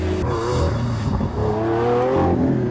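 A Lamborghini Aventador S with a V12 engine and carbon fibre chassis revs hard and pulls away, a loud, close, rising engine note sustained over a short burst.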